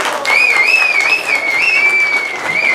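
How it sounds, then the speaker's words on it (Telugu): Audience at a Telangana Formation Day celebration in Dallas applauds in a dense, continuous wash of clapping, with a sustained wavering whistle-like tone running over it throughout. "గట్టిగా చప్పట్లు కొట్టుకోండి."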